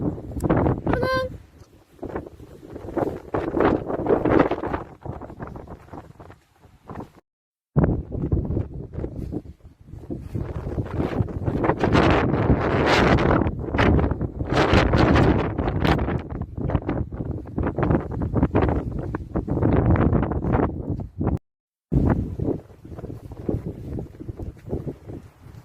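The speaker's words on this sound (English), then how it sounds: "Windy day, isn't it, Holly?" Gusty wind buffets the microphone on a blustery outdoor walk with dogs, loud rumbling bursts that rise and fall throughout, briefly dropping out twice, with a voice heard faintly in the mix.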